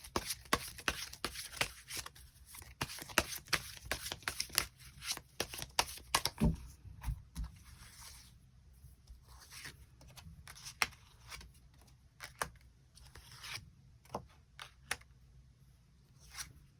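Tarot cards being shuffled and drawn: a steady run of crisp card riffles and slaps for several seconds, then sparser flicks and taps as single cards are pulled and laid down, close and moderately quiet with no talking.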